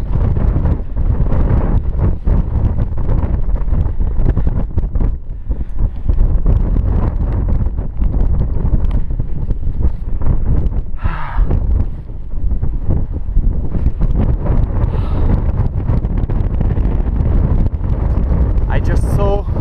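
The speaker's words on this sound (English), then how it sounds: "Wind, you probably hear it." Strong wind buffets the microphone high on Mont Mezenc, a steady loud rumbling roar that runs the whole time with gusty swells and no letup.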